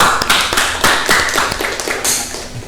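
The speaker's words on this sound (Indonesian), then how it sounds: "tepuk tangan untuk Mas Revan." Students in a classroom clap for a classmate, a short round of close, loud, slightly ragged hand claps that swells and tapers over a few seconds.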